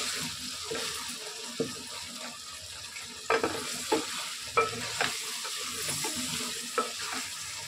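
Chicken biryani masala stir-fried in a pan for Hyderabadi biryani, with a steady frying sizzle broken by repeated spoon scrapes and clacks against the pan, close and fairly loud, no talking.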